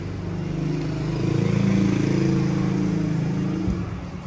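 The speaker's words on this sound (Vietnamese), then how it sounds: "anh em nghe tiếng bô nữa thôi là xong" Honda CB1000R motorcycle exhaust at a steady idle, with a close, loud, low throb that rises slightly in a mild rev around the middle and settles back.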